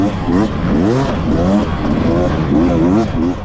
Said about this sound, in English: these four-strokes, I mean, these guys are ripping. They sound pretty good.